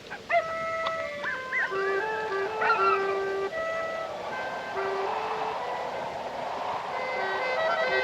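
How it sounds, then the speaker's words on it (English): Dogs howl at night in drawn-out, wavering tones, layered with a few yelps and whimpers, moderately distant and mixed with steady background sound. "dogs are noisy tonight."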